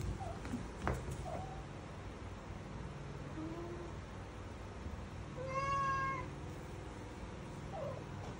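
Stray domestic cats meow a few times, one clear drawn-out meow standing out over a quiet, noisy background with faint shorter cries around it.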